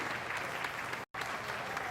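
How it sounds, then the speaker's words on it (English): Arena crowd applauding and cheering for a wheelchair curling team heading to the medal ceremony at the Canadian Wheelchair Curling Championship in Leduc, a steady wash of clapping broken by a brief silent gap. "Big cheer for Team Saskatchewan as they make their way down to the medal ceremony."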